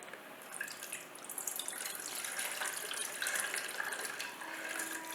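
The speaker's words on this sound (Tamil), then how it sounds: "இப்போ இதை வடிகட்டிடலாம்." Panakam, a jaggery drink with lemon, ginger, cardamom and crushed pepper, is poured through a strainer, giving a steady, close trickling and splashing of liquid with no talking.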